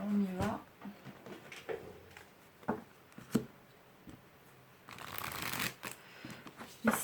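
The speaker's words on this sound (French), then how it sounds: "On dit de vous tirer le grand oracle de l'amour, 3 cartes." Oracle cards are shuffled by hand before a three-card love reading, with riffling, slapping and flicking close by in soft bursts. A faint voice is briefly heard in the background.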